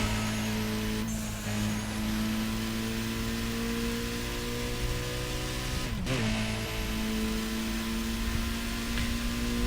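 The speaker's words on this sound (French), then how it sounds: "Ah mais excellent le son de cette voiture, c'est affolant quoi." Car engine in the video game Burnout Paradise, a steady loud drone with sustained tonal harmonics, a brief pitch dip near six seconds and occasional high whistling sweeps, with no talk.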